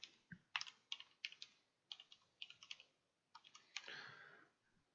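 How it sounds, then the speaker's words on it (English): Keys on a computer keyboard clack in quick, irregular bursts as a name is typed, with short pauses between groups of strokes and a brief rustle near the end; quiet and close, no talk. "I'm typing your name in here."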